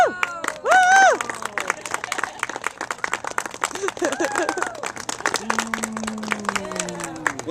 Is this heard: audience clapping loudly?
yes